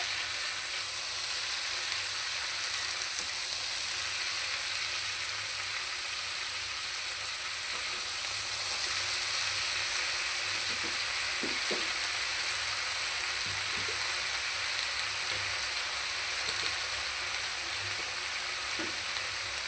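Mixed vegetables sizzling and frying in a pan with turmeric and salt, a steady bright hiss throughout with occasional soft scraping knocks from stirring, no talk.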